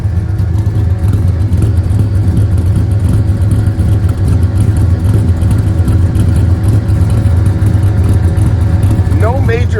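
A budget-build 1960s-style Chevrolet El Camino shop truck with a swapped LS 5.3 V8 rumbles loudly and steadily at close range, a deep continuous engine drone with slight revving under occasional talk.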